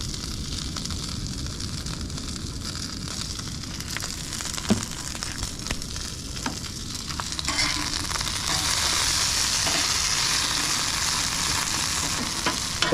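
Food sizzles steadily in a pan on a camp stove at a beach truck campsite, seasoned with pepper and garlic powder before the steak goes on, a continuous close frying hiss that grows slightly louder partway through.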